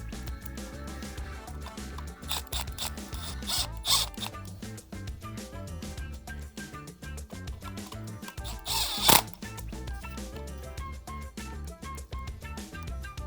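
Screws being driven back into the underside of a Steelcase Think chair arm pad, with dense ratcheting, zipper-like bursts of a small driver and clicks, close and fairly quiet, with no talk.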